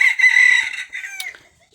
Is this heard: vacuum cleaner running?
no